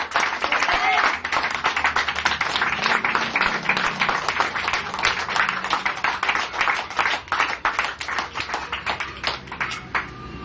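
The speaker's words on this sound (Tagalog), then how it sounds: "Napakaingay ng palakpak!" A congregation claps loudly at a religious gathering, a dense, continuous round of sharp hand claps with voices mixed underneath.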